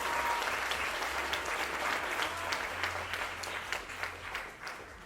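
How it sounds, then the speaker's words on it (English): A theatre audience applauds during a dance club's matinee show, the dense, steady clapping filling the room and tapering slightly toward the end. "Can we give them a big round of applause, ladies and gentlemen?"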